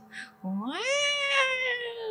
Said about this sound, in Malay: Betul ada bunyi kucing.